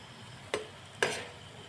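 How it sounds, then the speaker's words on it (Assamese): Puffed rice mithai fry in a pan over a low flame, with a quiet sizzle broken by two sharp stirring scrapes about half a second apart and no talking. "এনেদৰে মিঠাইকেইটা ৰঙাকৈ ভাজি লৈ আছোঁ।"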